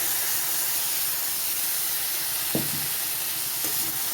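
Onion paste goes into a hot pan already holding fried ginger and garlic paste, giving a steady loud hiss and sizzle. A couple of faint utensil clinks come near the end, with no voices.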